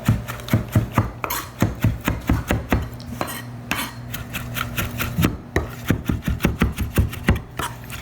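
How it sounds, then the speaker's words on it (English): A knife chops parsley and basil rapidly and rhythmically on a cutting board, close up, with a brief slower stretch midway before the quick chopping resumes. "I'm gonna go ahead and finish chopping this up."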